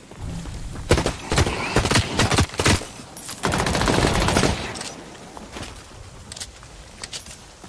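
Bursts of video game gunfire from The Cycle Frontier as a player shoots creatures, several rapid volleys up close, the loudest and longest near the middle, then sparse fainter shots.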